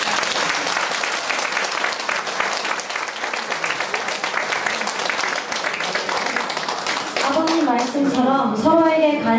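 Wedding guests at a ceremony in Busan applaud with dense, steady clapping that lasts several seconds, loud and close, before a voice starts speaking over the fading applause near the end.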